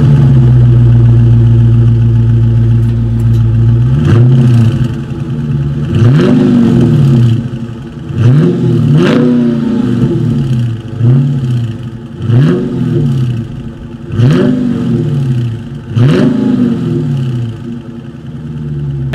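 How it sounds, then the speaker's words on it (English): A 2020 Dodge Charger Scat Pack V8 exhaust with dual chrome-tipped outlets idles with a deep rumble, then revs hard in repeated sharp bursts, each climbing and dropping back, loud and close. "Dual exhaust outlets with chrome tips, so I think you guys know what is coming next."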